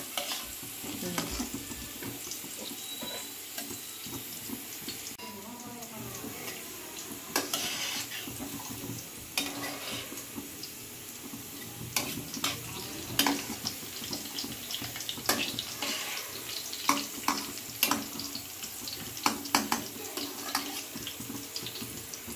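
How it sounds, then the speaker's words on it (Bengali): Potatoes for biryani stir-fried in a pot at a home picnic, making a steady sizzle broken by repeated clinks and scrapes of a spoon against the vessel, with faint background noise. "বিরিয়ানির আলুটা কষা হচ্ছে"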